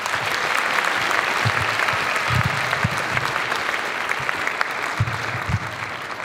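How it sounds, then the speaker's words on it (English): Audience applause at a sixth grade winter band concert, a continuous crowd of clapping hands sustained evenly throughout, with a few low thumps and murmurs mixed in. "Let's give another round of applause for all the sections of the band."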